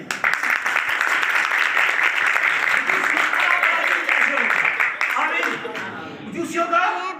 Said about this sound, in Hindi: भाई को ताली बजाइए